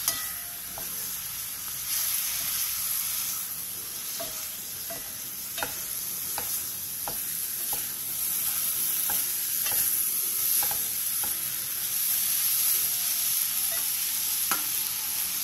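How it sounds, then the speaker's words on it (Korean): Kimchi stir-fries over high heat with chili powder, minced garlic and sugar, a continuous close sizzle broken by repeated scraping taps of a spatula against the pan. "고춧가루 1스푼, 다진 마늘 반스푼, 설탕 반스푼을 넣고 센 불에서 약 5분 정도 볶아주세요"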